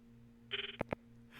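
A phone in the video game Steins Gate rings once with a brief trilling burst followed by two sharp tones, clear and close against a faint low hum.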